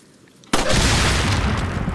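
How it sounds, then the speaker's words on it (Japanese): After a quiet moment, fireworks burst with an abrupt, loud boom, followed by a sustained broad crackling roar that stays strong to the end. "きたね、花火だ。"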